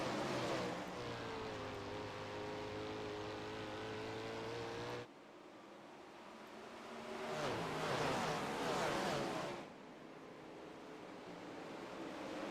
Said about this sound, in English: we're going to let you hear these sprint cars roar as they fire on into turn 1 for the first time